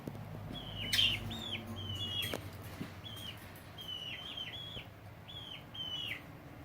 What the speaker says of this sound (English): Minion is the purple budgie for me.